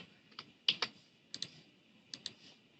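A handful of soft keystrokes on a computer keyboard, sparse clicks arriving in pairs and small clusters, close and faint against a quiet room.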